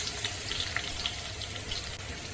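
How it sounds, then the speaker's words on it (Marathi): Crushed garlic fries in oil in a pan, sizzling and crackling steadily up close with a bright hiss and no talking. "आपण तेलामध्ये चांगले एकदम गोल्डन ब्राऊन होई पण भाजून घ्यायचे"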